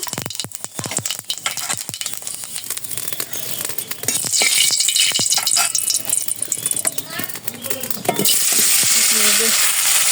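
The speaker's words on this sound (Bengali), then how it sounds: "কড়াইতে তেল দিয়ে দিয়েছি, এখন জিরা দিয়ে দেবো" Cumin seeds hit hot oil in a wok, giving a loud, crackling sizzle that swells sharply twice as more goes in, with stirring clatter and someone talking over it.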